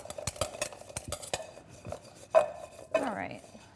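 Turnips tossed with olive oil, salt and pepper in a bowl give a run of scraping, clinking stirs, with two sharper knocks near the end; close and moderately loud, with no talking.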